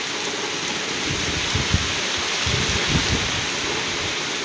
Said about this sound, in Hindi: बहुत ज़बरदस्त बारिश का ज़ोर है दोस्तों।